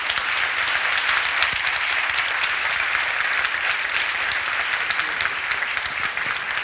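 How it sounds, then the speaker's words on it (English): Audience at a Citymoves 2015 business panel conference applauds the panel members, a dense, steady wash of many hands clapping at full volume with no break for the whole stretch. "a hand of applause"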